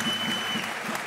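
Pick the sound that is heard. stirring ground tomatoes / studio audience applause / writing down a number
studio audience applause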